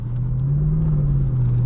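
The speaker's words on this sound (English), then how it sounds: "this thing, for a 5-liter V8, gets going relatively quick" A 2005 Mercedes S500 W220 with a 5-liter V8 pulls away in a steady, low engine drone that rises slightly in pitch and then holds, heard from inside the cabin with no talk.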